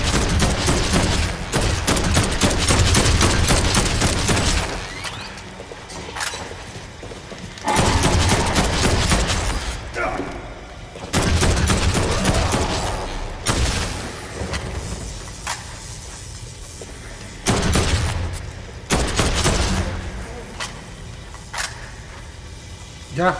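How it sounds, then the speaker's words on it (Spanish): Rifle gunfire in the video game Dead Island 2 rattles in loud, rapid bursts separated by brief pauses, with explosive booms and game effects in between. "te voy a acribillar a tiros con el rifle"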